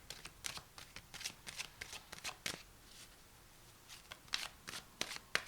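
Tarot cards are shuffled close by in rapid, crisp riffling bursts with brief pauses between them, quiet overall and without voices.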